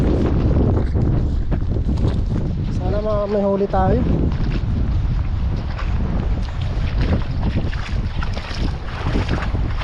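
Strong wind roars over the microphone outdoors on the water while fishing from a boat during an approaching typhoon, a steady loud gust noise throughout with a person speaking briefly near the start.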